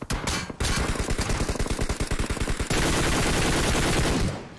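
Rapid automatic gunfire in the PUBG Mobile battle royale game, a sustained burst of evenly spaced shots that shifts into a denser, continuous volley before cutting off, loud and close with no talk.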